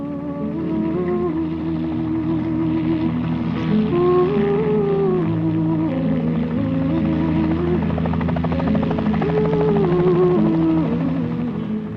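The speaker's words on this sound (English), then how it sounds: "today, helicopters pack in supplies" Helicopter flying in New Zealand's Routeburn mountains, a loud steady rotor drone with whining turbine tones that shift in pitch as it moves, continuous and alone.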